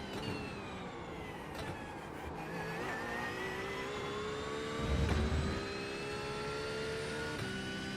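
A GT3 race car engine in the iRacing game drones steadily with rising and falling revs, swelling into a louder throaty burst partway through, with no talk.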